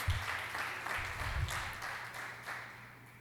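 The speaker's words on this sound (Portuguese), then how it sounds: "Se você crê e adora o Rei dessa palavra, aplauda o nome do Senhor." A church congregation applauds during a sermon, a moderate wash of many hands clapping that swells early and slowly fades toward the end, with no talking over it.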